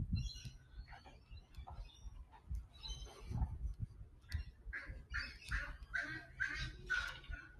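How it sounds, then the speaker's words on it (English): Ibis birds in a botanic garden near the palm houses give repeated harsh honking and squawking calls, fairly close and irregular, with no talk. "That honking sound of the ibis birds."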